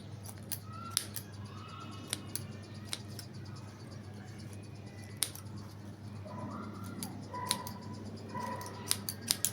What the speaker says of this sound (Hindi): जहाँ से फंसा पहले वहाँ से मैं काटूँगा